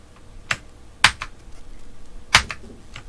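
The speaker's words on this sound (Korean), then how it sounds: "그 후에 Alt 키와 Del 키를 누릅니다." Alt and Del keys are pressed on a computer keyboard, giving a few sharp, close plastic clicks with softer key taps between them in a quiet room.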